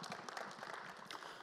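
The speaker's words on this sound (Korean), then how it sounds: "여러분 뜨거운 박수 부탁드립니다" Soft, steady applause from an audience at a Korean seminary faculty academic forum, a faint, even patter of many hands heard from a distance.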